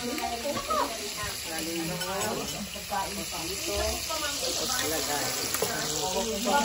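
Chicken wings deep frying in hot oil, a steady dense sizzle and bubbling that runs throughout, with a person talking over it.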